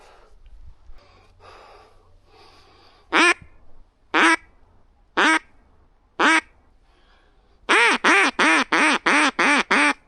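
Loud, nasal quacks of a flock of ducks ring out close by, first singly with pauses between, then in a rapid series of seven or eight in a row; no talking.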